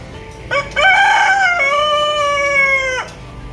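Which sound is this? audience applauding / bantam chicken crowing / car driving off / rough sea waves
bantam chicken crowing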